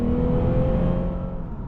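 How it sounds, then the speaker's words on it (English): The V6 engine of a 2016 Lexus RC 300 F Sport AWD hums steadily from inside the car while driving, a smooth, fairly loud tone holding near-constant pitch with no voices. "Great sounding engine. These V6s and V8s from Lexus sound phenomenal."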